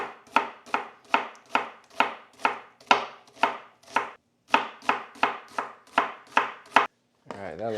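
A knife chops zucchini on a cutting board in quick, even strikes, about two per second, with a short pause midway, close and crisp with no talking.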